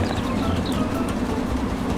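A train rolls past in the Farming Simulator game: a loud, steady rumbling drone with a low hum running throughout, with no talking.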